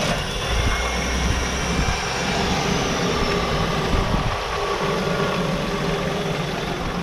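A 1999 Holden Commodore's engine runs at a steady idle, a continuous low rumble with a constant mechanical drone, close by and alone with no talk over it.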